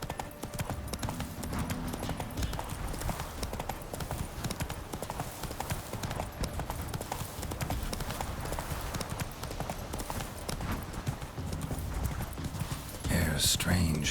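Roach, the horse in The Witcher 3: Wild Hunt, gallops in a steady rapid clip-clop of hooves that runs throughout with no pause, and someone speaks briefly over the hoofbeats.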